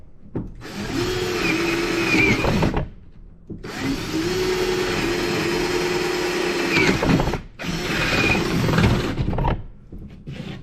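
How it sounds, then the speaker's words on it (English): A power drill whines steadily in three sustained bursts separated by short pauses, loud and close, with a high buzzing motor pitch, drilling a pilot hole while building camper van kitchen cabinets. "Need to drill a pilot hole first."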